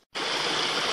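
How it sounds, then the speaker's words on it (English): Rainwater flows down a hiking trail like a small stream. After a brief silence, a loud, close, continuous rushing gurgle fills the moment, with no voices. "after every time it rains, my trail ends up being a river"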